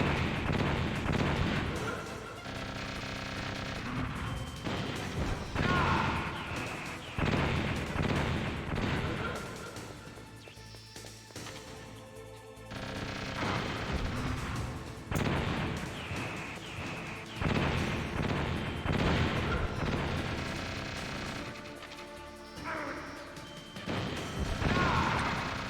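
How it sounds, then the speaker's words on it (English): Game gunfire and heavy impacts from Metal Gear Solid on PS1 come in repeated loud bursts separated by brief lulls, with rattling shots and crashing booms across the stretch and a voice now and then beneath. "Until he starts firing his machine gun"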